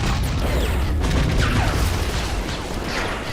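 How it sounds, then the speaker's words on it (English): A massive explosion in a Star Wars battle game, loud and dense from start to finish, with booming low rumble and crashing, mechanical clatter layered through it. "That was a massive explosion."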